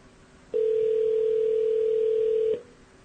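A steady telephone dial tone sounds loud and close, holding unchanged for about two seconds before cutting off, with quiet background before and after.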